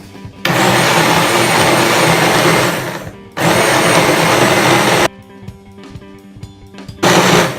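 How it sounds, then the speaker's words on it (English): A blender whirs loudly while blending rice and black beans for vegan sliders, running in three bursts of about three seconds, two seconds, and a short final one, separated by pauses with faint clatter. "I'm going to attempt to blend these together"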